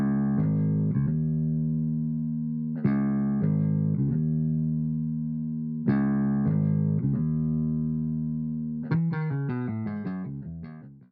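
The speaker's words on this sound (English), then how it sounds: "I decided to add my own bass line underneath that sample just to give the beat its own groove" A soulful beat sample with a deep added bass line underneath plays as sustained chord tones punctuated by plucky melodic notes, ending in a quicker run of notes, with no voices.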